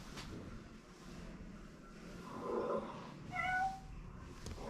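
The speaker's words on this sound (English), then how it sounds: "Sound of a cat." A cat meows briefly in a historic house in Poland, a short mid-pitched call rising faintly above a steady indoor background hum, with no talking.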